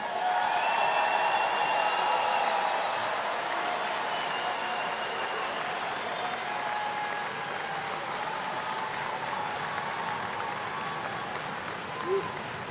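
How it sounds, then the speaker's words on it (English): Applause for graduates at a Missouri S&T commencement, a dense, even roar of clapping from a large crowd that holds steady and slowly eases off, with faint voices mixed in. "How about another round of applause for our graduates?"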